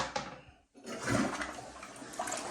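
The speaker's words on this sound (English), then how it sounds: "And the new flushing mechanisms that we have back in these makes it so they do flush really well." A toilet flushes with a short rush of water, pauses, then a fuller roaring swirl of water that continues to the end, loud and close in a quiet room.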